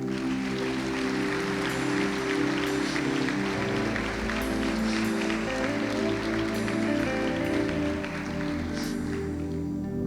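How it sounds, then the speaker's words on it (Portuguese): A church congregation applauds together, a dense, steady wash of clapping that fills the space for the full length, with musical tones sustained underneath. "Aplauda o Senhor."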